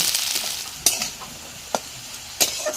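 Yardlong beans and vegetables sizzle steadily in hot oil while a spatula stirs them, with three distinct scraping clatters against the pan standing out over the continuous frying hiss.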